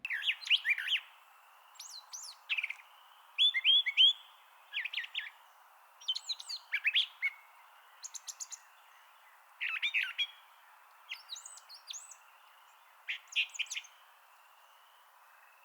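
A Brown Thrasher sings a long run of varied, fast chirps and warbled phrases in short bursts with brief gaps, clear and fairly close, no other voices.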